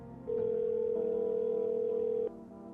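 A telephone dial tone in the video game No, I'm Not A Human: a steady electronic hum starting abruptly, holding about two seconds, then cutting off, loud and alone.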